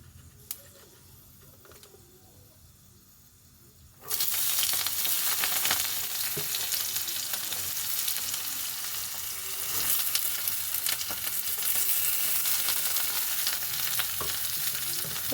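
Pointed gourd (potol) drops into hot oil and a loud, steady sizzle of frying erupts, continuing close and dense with faint stirring.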